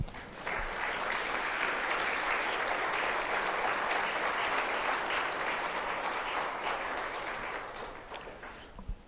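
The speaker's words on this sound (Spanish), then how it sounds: "¿Le puede dar un aplauso al Señor?" A church congregation applauds during a sermon, with dense, sustained clapping from many people that holds steady for several seconds and then gradually fades.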